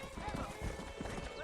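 Horse hooves clip-clop at an even walking pace in the game Red Dead Redemption, quiet and close, with a voice talking over them.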